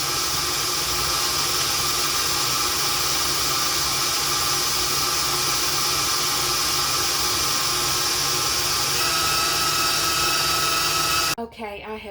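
Electric mixer whipping cheesecake batter with cream cheese: a steady, loud whirring drone that runs continuously and then stops abruptly near the end, followed by faint clatter.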